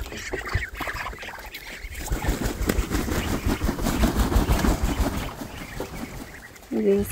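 On a farm in the morning, ducks are let out, with quacking and rustling close by amid splashy, busy movement while a person talks over it.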